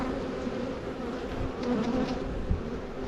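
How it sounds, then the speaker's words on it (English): Honey bees swarm around an opened hive during a March inspection, a dense steady buzzing close by with no voices. "Bees are just trying to sting me all over."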